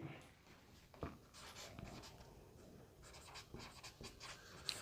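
A pen writes on paper during a math lesson, producing close, soft scratching strokes in short bursts with small taps between them, quiet and with no talking.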